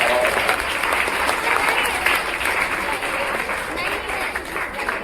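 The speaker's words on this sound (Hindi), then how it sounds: "एक बार जोरदार ताली बजाना चाहिए।" A room full of people claps loudly and continuously at a Teachers Day celebration in a coaching centre, the dense applause mixed with voices and cheering.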